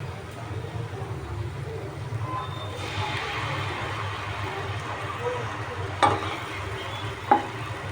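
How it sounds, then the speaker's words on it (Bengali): Spice paste frying with onions in a pan, a steady low sizzle and bubbling throughout, with a couple of sharp utensil clinks against the pan near the end. "এই পেস্টটা দিয়ে এবার কিছুক্ষণ ধরে ভাজতে হবে"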